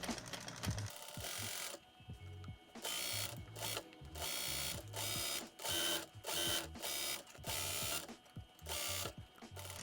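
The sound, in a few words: sewing machine sewing smocked elastic pant fabric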